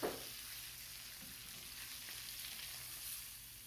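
Lemon and herb salmon fillets sizzling in a pan, a quiet steady frying hiss with a small disturbance at the start as they are turned.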